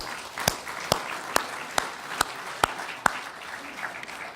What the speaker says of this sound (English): give a round of applause to everyone who helped put this wonderful day together